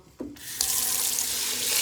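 Tap water running into a bowl while sushi rice is washed in a kitchen, a faucet switching on with a brief splash and then a steady close rush of water filling, with no talking.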